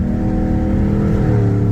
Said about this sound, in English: that was instant back tires spinning